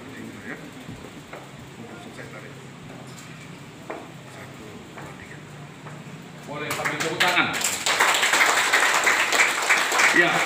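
Church congregation applauding at the inauguration of a new GKLI Lutheran congregation in the Mentawai Islands, rising from a murmur of voices into a steady, fairly loud round of clapping in the final few seconds.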